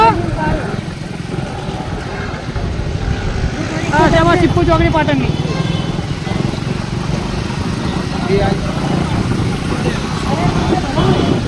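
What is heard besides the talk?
motorcycle riding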